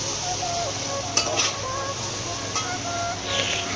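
Masala is stirred into a crab curry in a pan, giving a soft sizzle under scattered scrapes and clinks of a spoon against the metal, with faint background voices.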